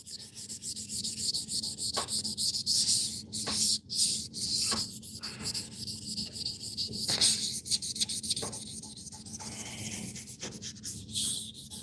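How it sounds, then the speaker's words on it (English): Dry sanding by hand: continuous back-and-forth abrasive rubbing strokes, close and fairly loud, with short pauses between passes and no talking. "It's always better to dry sand it."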